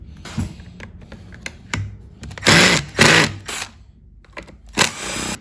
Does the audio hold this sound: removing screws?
yes